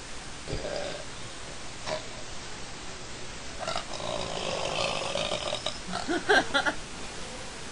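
A soft, drawn-out belch follows a drink of Coke, rough and breathy near the middle, with a few quieter gulping sounds around it and no clear talk.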